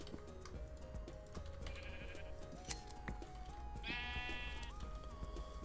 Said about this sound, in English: Oh, there is some sheep over here.